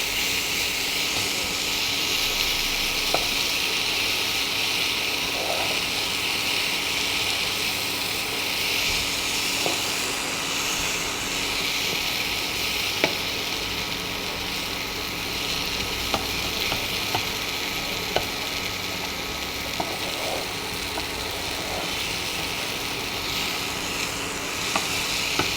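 Fenugreek leaves sizzle and crackle in hot oil as they are stirred for a methi matar dish, a steady close frying hiss broken by faint scrapes and taps, with no talking.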